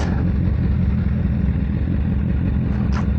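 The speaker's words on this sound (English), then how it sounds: "I'm in 4th gear, hands off the handlebars, auto blipping, auto blipping, auto blipping" BMW S1000R motorcycle engine auto-blipping in fourth gear while riding, a steady loud low drone with dense wind rush and no clear separate blips, heard close and alone.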